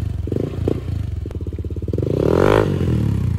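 A motorcycle fitted with a new exhaust pipe being test-revved, a close, throbbing idle pulse that rises into a louder rev around the middle before settling, with some clattering mechanical noise.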